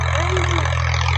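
A tractor engine runs steadily in a rural farm setting, a loud continuous low rumble with a strong even hum throughout.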